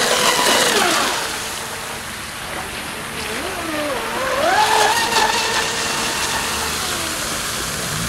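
A 6S RC catamaran's electric motor whines across the water on a high-speed pass, its pitch sweeping up and down over a steady hiss of spray and wind, fairly distant.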